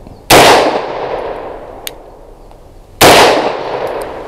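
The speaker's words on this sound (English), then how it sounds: "I will be shooting all these in double action first shot" Two loud sharp shots from a CZ 75 BD pistol firing Liberty Civil Defense ammunition, a few seconds apart, each with a short ringing decay outdoors.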